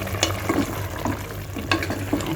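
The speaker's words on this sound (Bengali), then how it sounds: "এখন আমি আরেকটু নেড়ে দিচ্ছি।" Prawns and chopped calabash are stirred in a sizzling pan for a Bengali curry, with soft frying hiss underneath and a few scraping strokes of the spoon against the pan.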